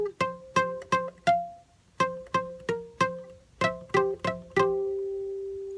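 Guitar phrase from a song, using open first and second strings: about fifteen crisp plucked notes in short clustered runs with brief pauses. The last note rings out and decays alone.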